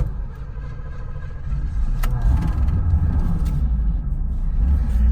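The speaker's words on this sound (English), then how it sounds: "That carburetor is not happy." A car engine running rough with an unhappy carburetor: a close, loud, uneven low rumble with a faint high tick, growing slightly louder partway through.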